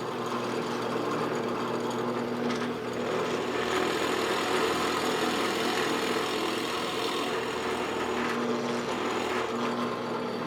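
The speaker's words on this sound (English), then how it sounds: "Then I'm going to drill the 3/4 inch counter bore on the top and the bottom," A drill with a Forstner bit runs continuously, a steady whirring motor drone with slight shifts in load as the bit cuts a 3/4 inch counterbore into wood.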